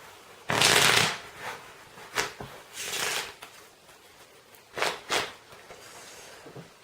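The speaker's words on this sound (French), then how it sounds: "C'est très important que les cartes soient bien mélangées." A deck of playing cards is shuffled in several separate bursts, a long riffle near the start followed by shorter crisp flutters and snaps, close by with no talking.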